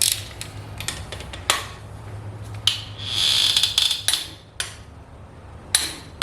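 Torque wrench set to 23 foot-pounds clicking while tightening a bolt during a 2013 Genesis Coupe 2.0T engine rebuild; several sharp metallic clicks and ratchet snaps stand out over a low hum in a quiet shop.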